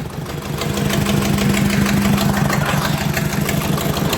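An Ursus C330 tractor engine runs with a loud, close, steady diesel chug and rhythmic knocking, swelling in the first second and then holding a constant beat.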